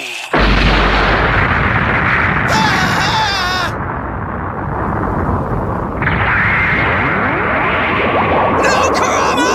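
A mad bomb explodes in the Yu Yu Hakusho anime during the Kurama vs Karasu fight of the Dark Tournament saga: a loud, dense, sustained blast and roar of debris lasting several seconds, with sharp bursts near the middle and end.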